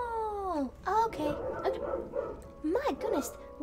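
A dog in a video game giving whining, yelping barks: a long falling whimper, then a short yip, and later two rising yelps, with game sounds and voices underneath.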